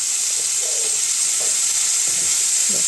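Onion, tomato, ginger and green chillies fry in a pan with a steady, close hiss of sizzling oil, while occasional soft stirring scrapes come through underneath.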